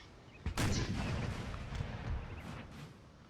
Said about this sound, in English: Nice, good hit there from the artillery.